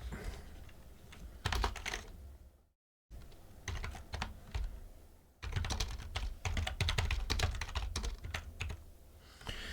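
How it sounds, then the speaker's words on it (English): Rapid computer keyboard typing with clustered bursts of clacking keystrokes, close and steady, briefly stopping before resuming harder and denser toward the end. "As I smash my keyboard everywhere."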